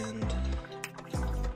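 Pour-over coffee draining through a Miir Pourigami brewer, a close liquid trickle and drip with a brief splashy burst midway, heard alone with no talk.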